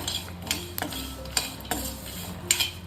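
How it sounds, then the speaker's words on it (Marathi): Peanuts, sesame and coriander seeds dry-roast in a pan without oil, giving soft rustling scrapes and several sharp clinks of a spoon stirring against the metal. "याचा कोरडा मसाला तयार करायचा आहे तेल टाकून भाजू शकता पण मी तेल न टाकताच भाजणार आहे"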